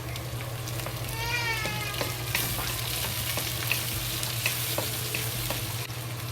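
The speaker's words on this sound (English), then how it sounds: "And fry it. With the ginger and the onion, that release the good smell." Ginger, onion and tomato sizzle loudly in a pan, a continuous close fry with occasional clicks of stirring and a steady low hum underneath.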